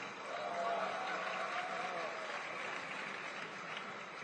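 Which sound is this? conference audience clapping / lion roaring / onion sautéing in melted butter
conference audience clapping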